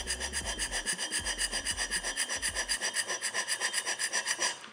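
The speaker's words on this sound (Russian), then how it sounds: "Сейчас мы ее попробуем немножко шабрянуть и заодно проверить наш шабер в" A hand scraper drawn repeatedly across an old rusty metal plate, giving a close, rhythmic run of rasping strokes in a steady back-and-forth pattern.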